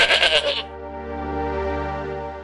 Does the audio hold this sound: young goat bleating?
yes